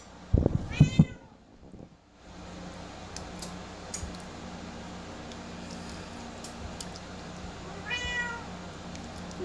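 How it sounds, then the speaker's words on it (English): A talkative pet cat named Nim meows in a home kitchen, with a couple of close, harmonic meows at the start and another fainter meow near the end over a low background hum. "She's a chatty cat."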